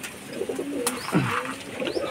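Madras pigeons, a prized male among them, coo in soft rolling phrases close by in a Kolkata loft, a short run of calls heard alone with no talk.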